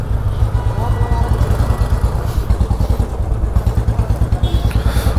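A motorcycle fitted with a new clutch lever starts and rides off, its engine a loud, close, steady rumble with rhythmic thumping throughout.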